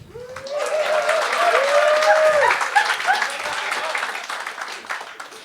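An audience at a comedy show bursts into applause, a dense wash of clapping that swells and holds for several seconds before tapering off, with some cheering and whoops on top.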